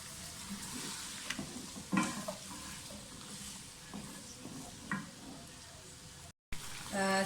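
Carrots and potatoes fry in a pan for a dhaba-style mixed vegetable dish, giving a steady soft sizzle with occasional stirring knocks and a brief pause near the end.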